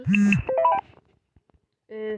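A phone chimes with a short run of electronic tones as a call comes in, first a loud burst and then a brief repeat after a pause, heard alone without talking.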